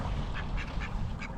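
Duck at a lake in Jönköping city centre, quacking in a quick series of short calls close by over steady outdoor background noise.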